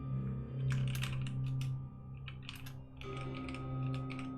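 Rapid clatter of typing on a computer keyboard during an online tabletop role-playing session, continuous bursts of keystrokes close to the microphone with a steady background hum.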